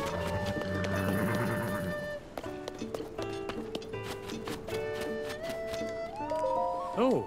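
Horse in Zelda: Tears of the Kingdom, with neighs and hoof clip-clop mixed under game music and someone talking throughout.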